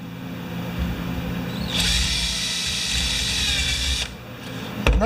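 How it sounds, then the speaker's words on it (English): A power drill bores a 1/8 inch hole, its motor whining steadily before rising into a louder, sustained drilling burst of about two seconds, then dropping back to a hum, close up with no talking. "now I'm going to drill that 1/8 inch hole again"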